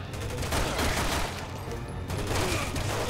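Sustained gunfire from Resident Evil 6, shots fired through a wall, with dense overlapping bursts and booming low impacts continuing loudly throughout.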